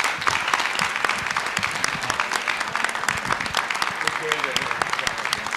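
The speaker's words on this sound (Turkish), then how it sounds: "Kıymetli alkışlarınızla." An audience claps to welcome a director and theatre artist onto a music program stage, a steady, dense round of applause sustained throughout.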